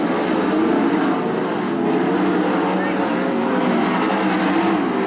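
410 sprint cars race wing to wing around Attica Raceway Park during a heat race, a steady, dense engine roar that holds for the whole stretch while an announcer talks over it.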